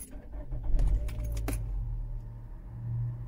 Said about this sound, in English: I'm gonna put the key back again and start my car.